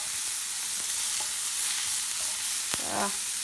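A big ribeye steak sizzles loudly in a pan, a dense, steady hiss with a couple of sharp ticks and a brief scrape near the end, close and without voices.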